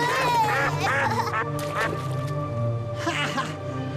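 Ducks quack in short bursts while people talk and shout nearby over a busy, noisy background.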